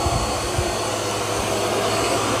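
A robot vacuum cleaner runs on carpet with its suction raised, giving a loud, steady, close whooshing whir that continues unbroken and alone.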